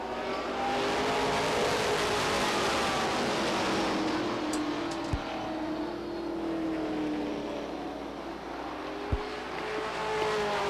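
Stock race cars at Beech Ridge Motor Speedway roar continuously around the track, a dense, steady engine drone with shifting pitch as cars pass, heard from a distance with no talk.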